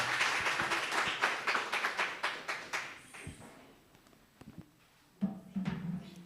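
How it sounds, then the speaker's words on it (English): Audience applause at the close of a conference session on e-participation and policy modelling: dense clapping that thins out into scattered claps, then a brief renewed burst near the end. "Can we give him a round of applause?"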